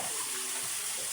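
Water runs from a tap in a steady, hissing stream for a brief moment, fairly close and with no voices over it.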